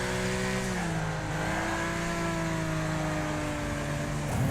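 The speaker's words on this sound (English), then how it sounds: "Car flying past us here." A race car in the Wreckfest video game roars past, its engine note loud and sustained with shifting pitch as it passes close, then a rising rev at the end.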